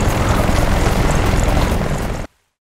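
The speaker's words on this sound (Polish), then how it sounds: "śmigłowiec pewnie przyleciał po niego!" A helicopter arrives in the video game Battlefield: Bad Company 2 as a loud, continuous rotor roar that fills the scene, then cuts off abruptly into silence.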